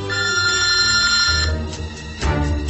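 A telephone rings steadily and loud from a remote monitoring center calling about a possible vehicle theft, the tone carrying for about a second and a half before fading into low room noise and a brief knock.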